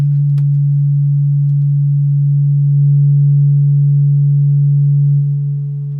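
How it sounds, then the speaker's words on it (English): A steady low sine tone from a modular synthesizer hums loud and unbroken throughout, swelling slightly in the middle and easing off at the end, with no voices. "4 different sine waves in different phases."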